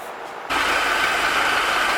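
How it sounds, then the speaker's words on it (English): A Bayliner boat engine abruptly starts up and settles into a loud, steady idle with a rough, slightly uneven rumble close by. "She's idling just a little bit rough"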